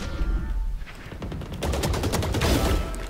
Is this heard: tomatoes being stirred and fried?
no